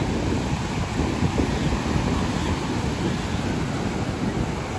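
Waves wash steadily on a beach at sunset, a continuous broad rushing roar mixed with wind buffeting the microphone, with no talk.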